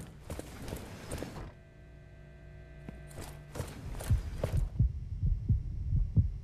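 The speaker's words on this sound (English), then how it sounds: "What's that heartbeat noise?" A heartbeat sound effect in the VR game Jurassic World Aftermath: low, rhythmic thumps that pulse steadily and grow stronger toward the end, over a faint electronic hum.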